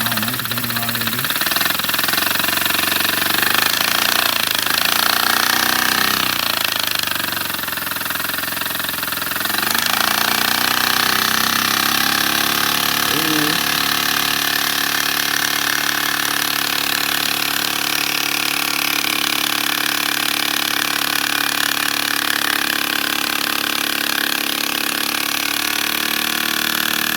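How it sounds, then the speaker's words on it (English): A single-cylinder engine built from paper runs loudly and continuously, with a buzzing note whose pitch wavers for the first ten seconds before settling into a steady drone. "All right, time for the single cylinder, y'all."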